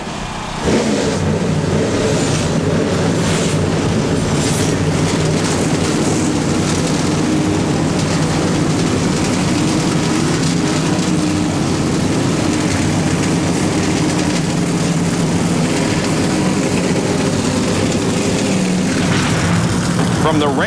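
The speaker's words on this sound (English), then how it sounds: "Gentlemen, start your engines." NASCAR Winston Cup stock cars at Sears Point Raceway, 1997, start their engines together in a loud, dense, continuous roar that holds for the whole stretch, with crowd and announcer sound mixed underneath.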